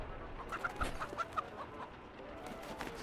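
Chicken clucking in a video game: a quick run of short clucks, faint and somewhat distant, with low background noise and no talk.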